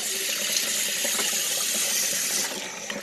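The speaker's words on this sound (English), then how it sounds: "Hot water." Hot water runs from a kitchen tap in a steady hissing stream, loud and continuous, easing slightly toward the end.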